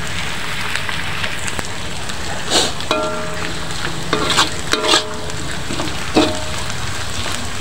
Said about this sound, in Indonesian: Goreng sampai kering